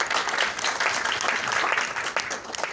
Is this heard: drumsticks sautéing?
no